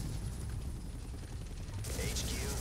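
A helicopter in the video game X-Men Origins: Wolverine churns with a heavy, continuous low rotor rumble, joined near the end by brighter clattering noise amid the bombardment.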